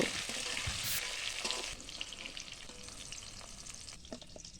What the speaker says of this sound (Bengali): প্রথমে কড়াইতে সর্ষের তেল গরম করে নি, কাটা ধোয়া ঢেঁড়স, লবণ হলুদ গুঁড়ো দিয়ে হালকা করে ঢেঁড়সগুলো ভাজিয়ে তুলে নেব।